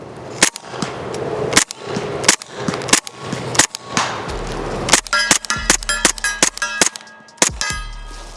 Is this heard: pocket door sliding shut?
no